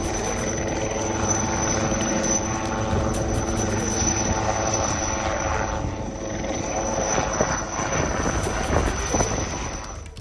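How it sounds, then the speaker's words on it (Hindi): A rescue helicopter flying over Gujarat floodwaters near Porbandar, its steady rotor and engine drone loud and continuous throughout, with a dense rumbling low end and no talk. "पोरबंदर कैसे हेलीकॉप्टर की मदद से रेस्क्यू ऑपरेशन चलाया जा रहा है।"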